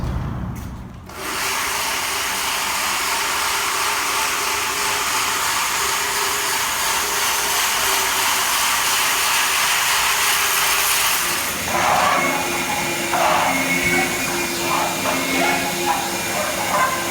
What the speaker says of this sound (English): start the machine up and begin the floor grinding process.